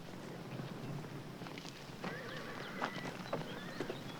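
Hooves clip-clop at a slow walk on firm ground, faint and somewhat distant, with a few louder knocks and creaks toward the end.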